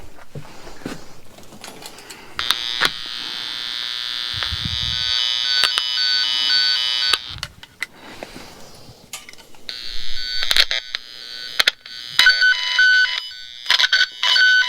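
A cable tracer probe's electronic tone buzzes in bursts while it is moved across wires, growing stronger and steadier toward the end amid scraping and clicking handling noises, no talking.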